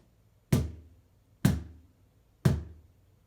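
A flat hand strikes the middle of a cajon for its bass tone, three deep, resonant thumps spaced about a second apart that decay quickly into silence.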